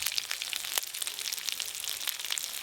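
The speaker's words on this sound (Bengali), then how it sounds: "আদা জিরে তো বেশিক্ষণ ভাজতে লাগেনি" Ginger and cumin fry in a pan for a village-style Bengali vegetable dish, giving a faint, continuous crackling sizzle with scattered small pops and no voices.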